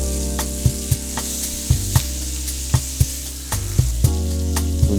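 Oxtail searing in hot oil gives a loud, steady sizzle, broken by repeated sharp clicks and spatters at an irregular rhythm, with a low hum underneath.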